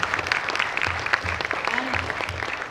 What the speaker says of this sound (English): we need to give a big round of applause to